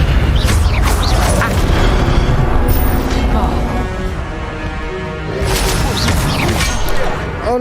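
The Levioso levitation spell cast in Hogwarts Legacy on PC, heard as loud, dense booming and crashing game effects that run throughout and mix with a shimmering magical whoosh.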